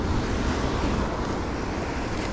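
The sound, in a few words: ocean waves on the California coast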